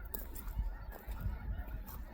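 Geese honk as a flock lifts off from a winter wheat field on a farm, repeated overlapping honks at a moderate distance over low rumbling wind noise.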